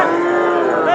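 A Sahiwal cow at a cattle market lets out a single loud, close, sustained moo lasting about a second.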